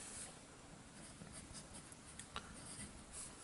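A Cross ATX pen with a medium nib writes across paper, giving a quiet, steady scratching that runs continuously with a few small bumps, close and alone with no voices.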